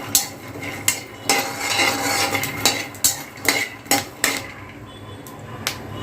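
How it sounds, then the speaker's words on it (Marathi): Peanuts dry-roasting in a kadhai while being stirred, a spoon scraping and clanking against the pan in repeated sharp strokes over a rattling rustle, close and prominent, tapering off toward the end. "इथे शेंगदाणे जे आहेत ते आपण इथे भाजायला ठेवलेले आहेत"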